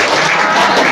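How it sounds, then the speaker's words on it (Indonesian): Brief, loud burst of audience clapping at an Indonesian civic outreach session, a dense wash of hands lasting under a second. "Tepuk tangan dulu buat kita."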